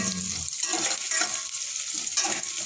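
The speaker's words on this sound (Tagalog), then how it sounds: "Ating pinangkutsyang luya, bawang at saka sibuyas." Ginger, garlic and onion sautéing in a pan make a steady close sizzle with bursts of stirring scrapes and crackles throughout.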